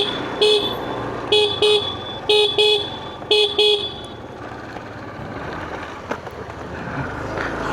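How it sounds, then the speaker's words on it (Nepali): During an off-road scooter ride, a vehicle horn honks in three quick double bursts, loud and close, before giving way to road and wind noise with a few faint clicks. "मैले कतिचोटि हर्न बजाएँ होला"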